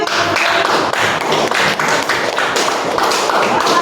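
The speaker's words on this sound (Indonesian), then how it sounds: "Tepuk tangan." A classroom of high school students claps hands together in a dense, uneven patter of close, sharp claps that continues without pause for several seconds.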